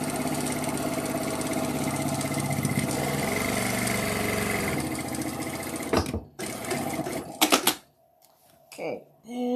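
Sewing machine stitching quilt block pieces, a loud steady mechanical whirr that runs for several seconds, then stops and starts in brief bursts, with people chatting nearby.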